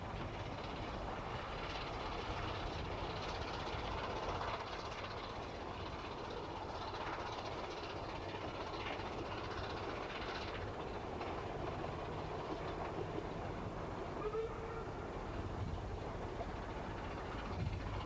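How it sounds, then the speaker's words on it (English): A Ffestiniog Railway steam train rolls around a long curve near Boston Lodge Halt, a steady rumble with faint wheel clatter and a brief squeal near the end. "The trains then sweep around a long curve and into Boston Lodge Halt."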